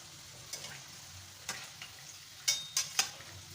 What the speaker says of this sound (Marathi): आधी एकाच बाजूने परफेक्ट प्रमाणात फ्राय करून घ्यायचे